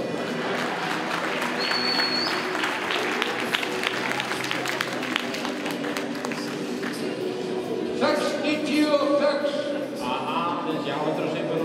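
An outdoor crowd applauds at an Icelandic horse event with flying-pace racing. Scattered, steady clapping runs for about twelve seconds while people talk over it.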